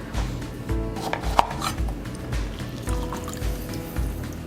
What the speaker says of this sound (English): let me give this a stir back here